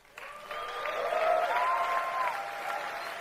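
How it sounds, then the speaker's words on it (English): An audience claps for a man, the applause swelling quickly into a steady, fairly close wash of many hands that holds for a few seconds. "And the fact that they're clapping for him is crazy."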